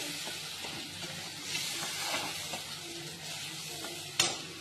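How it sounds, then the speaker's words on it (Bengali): Masala spices fry in hot oil in a pan for egg kosha, a steady close sizzle with soft stirring scrapes and a sharp clink of a utensil near the end. "আমি ফ্রাই করবো এখন মশলাটাকে আমি ভালো করে।"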